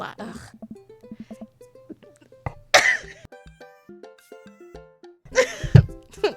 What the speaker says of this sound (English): The laugh turned into a cough, I fear.